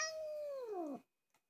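A house cat lets out a single long, drawn-out meow that bends downward in pitch before cutting off, fairly close and alone, followed by a brief faint rustle.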